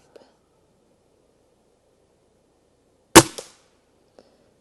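Gamo air rifle fired once, a sharp close crack followed by a short mechanical echo in an otherwise quiet setting, with faint small clicks before and after.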